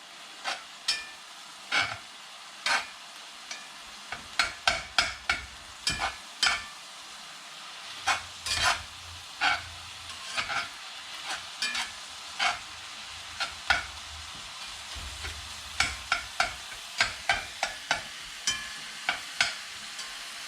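Ground meat for chili browns and sizzles in a pan, with a steady soft frying hiss broken by frequent sharp scrapes and clicks of a utensil stirring against the pan.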